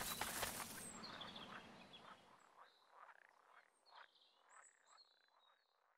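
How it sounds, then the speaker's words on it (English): Frogs croaking in the wilds of Wild Hearts, a chorus of faint, scattered croaks and chirps rising after a noisy rushing start, fading to quieter ambience. "The frogs croaking and stuff."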